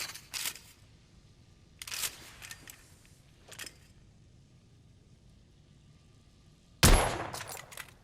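Scoped rifle shots in the video game The Order: 1886, heard as a few sharp cracks with short tails spaced apart, the last one loudest, against a quiet background with no speech.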